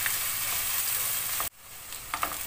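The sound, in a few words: onion and garlic frying in a pan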